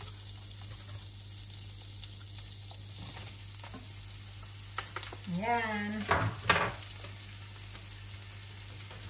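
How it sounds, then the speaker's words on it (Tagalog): Mushrooms frying in a pan in a home kitchen, a soft steady sizzle with faint stirring and a low hum underneath, while a voice speaks briefly in the middle. "Tapos parang prituhin mo lang siya."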